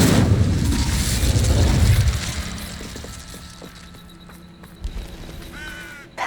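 In Hogwarts Legacy, a cast Incendio fire spell erupts in a loud, close whooshing blast that roars for about two seconds, then fades into a quieter rumbling tail with faint scattered clicks, no voice over it.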